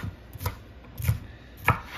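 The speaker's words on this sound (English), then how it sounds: "I'm just going to cut" A knife chops through a bell pepper on a cutting board with three distinct, sharp strikes spaced about half a second apart, each with a close, crisp thud, and no voices present.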